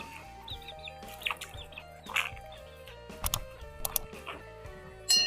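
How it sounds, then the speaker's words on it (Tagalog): Several chickens cluck softly nearby, scattered calls over a low background hum, with a louder squawk near the end. "May mga manok din ako dito eh."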